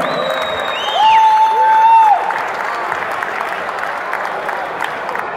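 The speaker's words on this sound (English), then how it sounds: "let's give them a round of applause" A banquet crowd claps and cheers steadily throughout, with a sustained whistle and some shouts rising early, the applause fairly loud and continuous.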